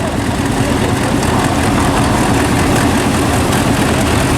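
A vintage Field Marshall tractor engine running at Tinkers Park rally, a steady loud low-pitched thrum held evenly throughout, close by with no talking.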